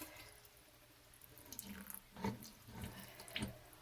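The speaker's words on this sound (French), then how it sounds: "Alors là, voilà, je vais le brosser sous l'eau." Running tap water splashing over a fossil rock as it is brushed, a steady close stream with a few sharper scrubbing and splashing bursts.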